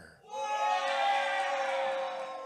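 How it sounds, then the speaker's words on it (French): Live festival crowd roaring at a podcast event as The Undertaker is introduced, a loud sustained wall of voices that swells and holds for two seconds, mixing jeers with whoops. "j'ai entendu plus de huées pour Undertaker"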